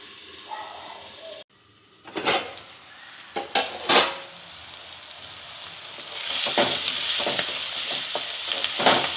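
Tomatoes sizzle steadily in a hot pan for an egg idiyappam string hopper stir-fry, with several sharp spatula scrapes and clinks against the metal, close and fairly loud.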